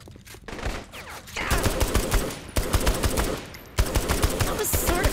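Sustained automatic gunfire aimed at targets in Saints Row: The Third, loud rapid volleys in long bursts with short pauses, close and continuous over game ambience.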